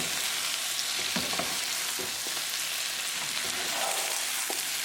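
Taro root (arbi) masala sizzles and fries in a pan on a gas stove, a continuous hiss of crackling oil broken by a few scraping stirs of a spoon, steady and close with no voices.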